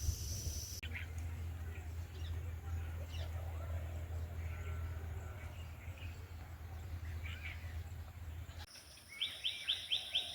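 Morning birds call faintly near a village pond over a steady low hum, with scattered soft chirps and a quick run of repeated tweets near the end.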